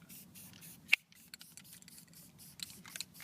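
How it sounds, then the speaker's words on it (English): Spray painting the wooden part of a homemade hoverboard, a soft continuous hiss of aerosol in bursts, with one sharp click near the start and light handling noises. "we're spray painting our hoverboard"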